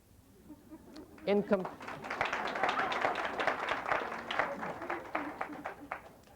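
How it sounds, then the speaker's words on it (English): An audience at a lecture performance applauds. A brief voice comes first, then scattered claps build into moderate, uneven applause with individual hand claps standing out, fading slightly toward the end. "And I thank you, men, for the applause."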